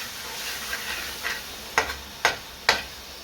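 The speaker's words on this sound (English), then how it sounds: "Just give it all that a really good stir until we get our base sauce." A spoon stirs a thick curry base sauce loosened with water in a pan, producing soft scraping and a few sharp clacks against the metal, spaced about half a second apart, close up with no talking.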